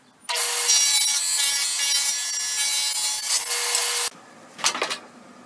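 A table saw with its blade lowered to a quarter inch and the fence set at half an inch cuts a board for a wooden storage box, giving a steady, loud, close whine for about four seconds, then a brief second rasp.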